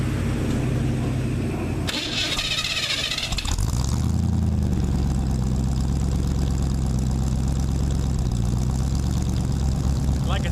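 A 1986 Ford F-150 pickup engine starts up and then settles into a loud, steady, close rumbling idle that holds even for several seconds, with no talking.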